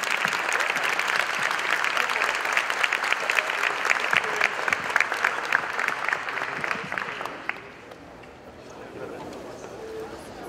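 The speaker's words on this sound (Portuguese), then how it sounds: "uma salva de palmas para o professor" Applause for a teacher at the close of a literature class for Brazilian university entrance exams, lively clapping from a room of students that thins out and fades after several seconds, leaving quieter background voices.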